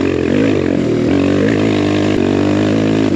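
A BBR KLX170RF dirt bike engine drones loudly while being ridden, its pitch climbing and dipping with the throttle in a continuous close-up buzz, with a brief blip near the middle.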